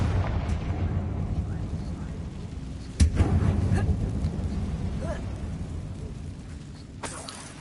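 A Confringo spell explosion in Hogwarts Legacy: one sudden sharp blast about three seconds in, with a rumbling tail that fades out, and a smaller hit near the end, set over steady low ambient game noise.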